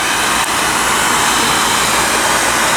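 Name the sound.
heating a 2-stroke engine case with a heat gun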